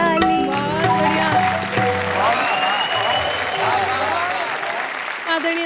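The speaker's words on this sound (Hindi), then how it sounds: "रात ये है मतवाली बजाओ मिलकर ताली।" Audience clapping along over loud music and singing at a Hindi comedy poetry show, a steady wash of applause under the vocals.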